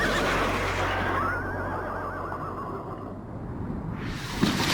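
Horses neigh and whinny in a dramatic shipwreck scene, a long rising whinny standing out over a dense, roaring storm-and-sea bed that persists throughout.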